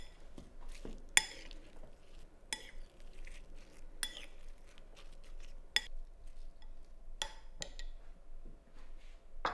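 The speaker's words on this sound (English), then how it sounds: "To the onions, add 6 tablespoons of olive oil and 1 teaspoon of dried oregano," A spoon scrapes and clinks against a pan or bowl while onions are stirred with olive oil and dried oregano, giving irregular sharp metallic taps over a quiet background.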